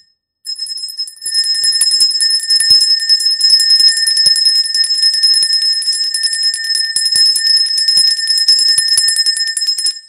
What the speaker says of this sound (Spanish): Suena la campana de Wall Street